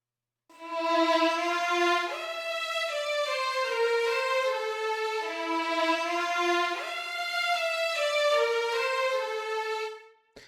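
A dry, sustained string section plays slow harmonized phrases with no reverb tail, the chords changing every couple of seconds before cutting off cleanly.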